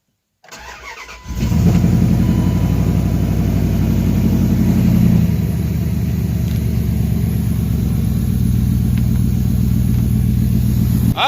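A 1999 Dodge Durango 5.2L V8 4x4 with a replaced exhaust cranks briefly, catches and settles into a loud, steady, deep idle close by, with no talk.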